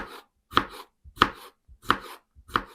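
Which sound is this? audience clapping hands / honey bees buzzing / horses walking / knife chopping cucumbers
knife chopping cucumbers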